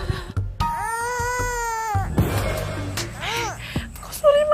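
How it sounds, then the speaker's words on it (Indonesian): A baby cries in drawn-out wails on a street, moderately close, mixed with other shifting noises and whimpering sounds, with no clear talking over it. "Masa di tengah jalan begini ada suara bayi sih?"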